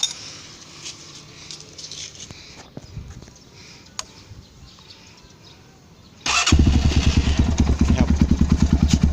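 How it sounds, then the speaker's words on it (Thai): A motorcycle engine, a CR5 200 fitted with a Comet FS2SS exhaust with the baffle removed, kicks on after quiet background noise, its loud, raw exhaust pulsing in a rapid, throbbing rhythm. "เดี๋ยวถอดจุกดู รู้เลยลั่นแน่นอนถอดจุก"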